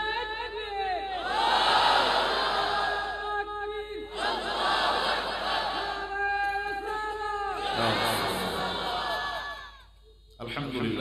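A large crowd at a religious gathering, led by Qari Muhammad Nesar Uddin Salehi in Chandpur, chants the takbir in three loud, close unison shouts separated by short gaps, then falls quiet near the end.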